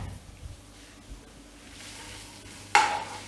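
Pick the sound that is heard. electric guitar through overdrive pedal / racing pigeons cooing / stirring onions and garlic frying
stirring onions and garlic frying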